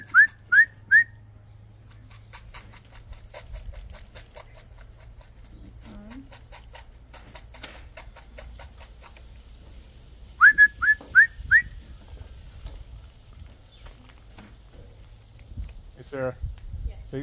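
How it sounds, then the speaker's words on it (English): A person whistles to call a herd of alpacas outdoors, giving short bursts of three or four sharp rising whistles near the start and again midway, with faint bird calls, footsteps and quiet talk in between. "I whistled and they all started coming over."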